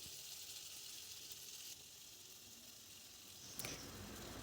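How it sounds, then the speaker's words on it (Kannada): Chicken frying in oil with chopped coriander leaves in a pan, a steady soft sizzle and hiss, faint and even throughout, with a brief louder crackle near the end. "ಈ ರೀತಿಯಾಗಿ ಫ್ರೈ ಮಾಡ್ಕೋಬೇಕು ಚಿಕನ್ನ"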